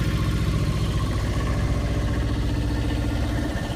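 A Perkins 402D-05G diesel engine runs an Aurora 4 kW generator, giving a loud, steady, low rumbling drone from the exhaust side with no talk.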